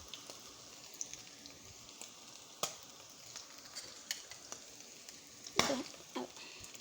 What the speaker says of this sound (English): Into the same oil, I'm going to put my bread.